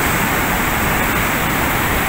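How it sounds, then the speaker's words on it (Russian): Ocean waves on Tenerife washing over into a swimming pool make a loud, continuous rushing hiss of churning water with no breaks. "волны, конечно, заливают бассейн"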